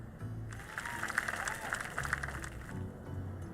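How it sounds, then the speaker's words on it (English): A crowd applauds at a bridge rebuilding ceremony in My Time at Sandrock video game, steady clapping at moderate distance that carries on throughout with a low background hum. "let's give a special round of applause for our core construction team."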